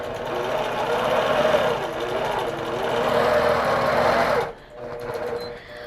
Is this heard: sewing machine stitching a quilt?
yes